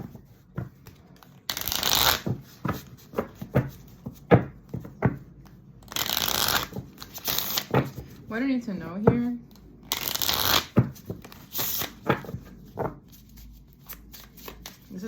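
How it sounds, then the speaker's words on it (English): Small deck of cards being shuffled by hand in repeated riffling bursts, with a person speaking briefly between them. "This is a smaller deck, so it's kind of awkward to shuffle"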